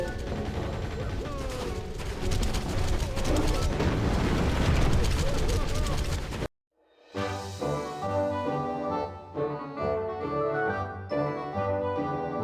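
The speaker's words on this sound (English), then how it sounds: "I didn't realize there was a turret shooting me." A turret in Psychonauts firing at the player, a dense, loud barrage that cuts off abruptly and gives way to game music and scattered impacts.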